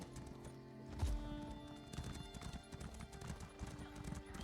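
Horse hooves clip-clop steadily while riding in Elder Scrolls Online, a continuous rhythmic trot that sits low under game ambience with faint background voices.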